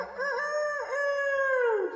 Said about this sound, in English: We have the chicken rooster that crows every morning